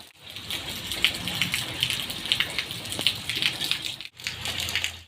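Evening rain falls steadily with a dense hiss of drops spattering on surfaces nearby, broken by a brief dip near the end before resuming.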